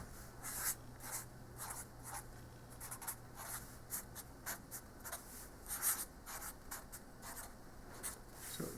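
A pen or marker scratching out a general geometric series on a surface, with steady close strokes and short taps in an irregular rhythm, faint and without any talking.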